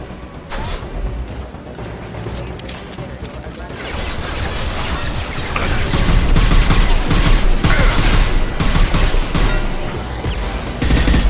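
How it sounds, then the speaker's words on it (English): Dense, sustained gunfire from Mass Effect 2 fills a heist mission, with rapid overlapping shots and crashes that build louder midway and stay heavy to the end, under game voices. "Taking fire."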